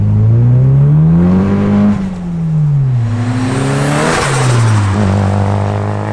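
A turbocharged Mitsubishi Lancer engine revs loudly at wide open throttle on the street, rising and falling in pitch through several pulls. A steady whooshing roar runs throughout, with no talking.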